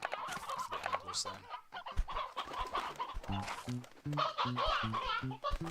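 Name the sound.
sea hen clucking in the video game Slime Rancher 2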